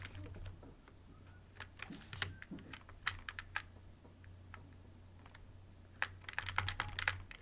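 Keys clatter on a computer keyboard as a command is typed into a Linux terminal, irregular bursts of close, crisp clicks with brief pauses between words over a low steady hum.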